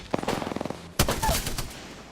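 Apex Legends gunfire in a battle royale match, a rapid burst of automatic shots followed by a loud heavier blast with a ringing tail, close and punchy.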